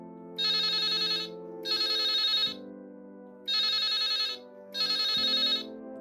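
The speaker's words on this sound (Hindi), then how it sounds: "चार रिंग जाने के बाद में आवाज़ आई" A telephone rings in a radio story, four evenly spaced electronic rings over a quiet, steady background tone, clear and close with no voices.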